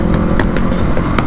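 An off-road dirt bike with new tyres revs hard and close, a loud, rough, continuous engine roar with rapid pulsing bursts.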